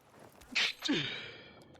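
A single sharp sneeze bursts out close by during a Dying Light 2 couch gaming session, followed by a short voiced exhale, with quiet room tone around it.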